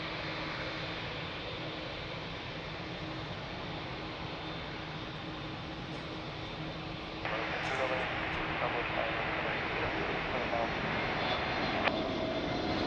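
Jet airliners, an Airbus A330 and a Boeing 787, hold at Lisbon Airport, their engines giving a continuous rumbling roar with steady tonal hums that swell a step louder midway, while a voice talks briefly over it.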